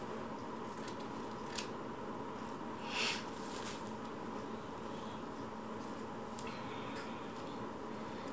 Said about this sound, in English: so I'm a bit careful when I cut out so I don't destroy it.